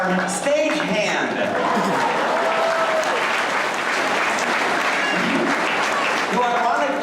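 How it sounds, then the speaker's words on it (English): Spectators at a sea lion and otter show clap steadily throughout, with some chuckles and cheering mixed in and a performer's voice speaking over the applause in places. "let's have a nice round of applause for our stage hand"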